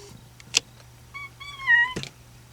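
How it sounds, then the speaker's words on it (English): A young domestic cat, about six months old, gives a short rising meow indoors, close and clear, with a soft bump before it and a thud right after. "And there's the kitty cat."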